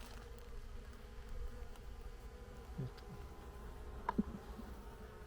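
Carniolan breeding bees, shipped by bus in a box for about seven hours, give off a faint, steady low insect hum with a few brief louder buzzes.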